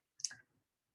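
A single sharp computer mouse click, close and crisp, made while editing a design in Adobe XD, followed by brief silence.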